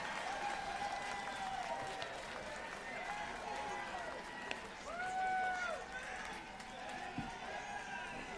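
A Trump rally crowd greeting Vivek Ramaswamy roars and cheers without a break, with whistles and shouted voices rising and falling over a dense, loud wall of applause.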